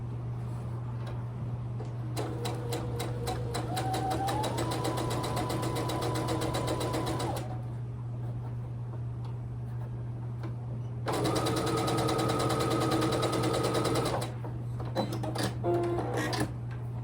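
A sewing machine stitches a quilt block in two long, fast bursts of rapid rhythmic clatter over a steady low hum, separated by a quieter pause.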